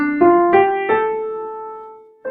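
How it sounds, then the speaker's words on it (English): A five-note pentatonic scale, missing the third and seventh degrees, played upward on a pitched instrument: a few sustained, ringing notes rising in steps, then the bottom note returning at the end, heard alone. "So the pentatonic scale leaves out the third degree and the seventh degree."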